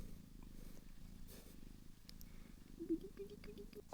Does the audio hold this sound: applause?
no